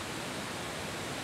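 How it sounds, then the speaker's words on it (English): Desoto Falls, a waterfall about 100 feet high in full spring flow, gives off a steady, dense roar of broadband rushing water with no pauses or voices. "We've got Desoto Falls, which is approximately a 100-foot waterfall."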